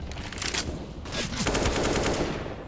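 Rapid automatic gunfire from Counter-Strike: Global Offensive during a professional NaVi versus Astralis match on the map Train, with bursts of shots that fire continuously for about three seconds at steady volume, with no talk.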